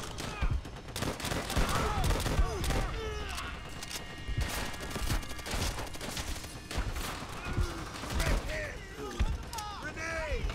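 Bursts of rapid Nambu gunfire from Call of Duty: World at War crackle in quick volleys with scattered single shots and mechanical clicks, while a player talks over the action.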